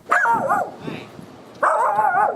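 A dog barks twice in short, yelping bursts separated by about a second, loud and near.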